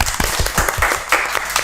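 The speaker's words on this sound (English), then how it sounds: "Everyone applause." A small group claps for a podcast's guests in a short, loud burst of uneven, close hand claps lasting under two seconds, with no talking over it.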